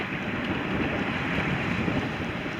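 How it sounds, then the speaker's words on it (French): Strong wind roars while sailing in the Sognefjord in Norway, a steady, loud rushing buffet over the microphone with water washing beneath, continuous and close with no voices. "En fin de matinée, le vent monte brutalement."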